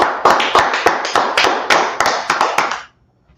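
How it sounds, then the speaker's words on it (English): Clapping from a class audience: roughly a dozen sharp, fairly regular claps over about three seconds, close and loud, ending abruptly into silence. "All right, clap it up for the class."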